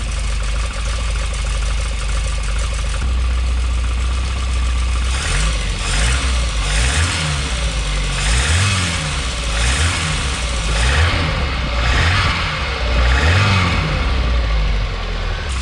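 A Triumph TR7 engine idles on choke after a stone-cold start, a steady loud mid-pitched rumble with a slight uneven rise and fall in revs, running alone without voices.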